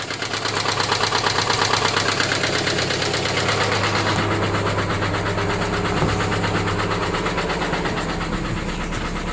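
A 2009 Subaru Forester engine idles with a steady, loud knock repeating through a continuous mechanical drone, close by and heard alone without any talk.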